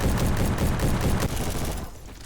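FAL rifle gunfire in the online shooter game Bad Business, a dense rapid burst of loud close shots lasting about two seconds before trailing off.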